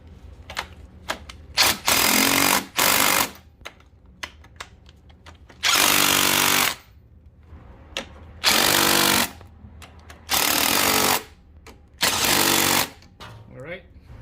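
Power tool tightening engine mount bolts on a Honda CR-V 2.4L, loud repeated bursts of about a second each, separated by short pauses, with faint clicks between.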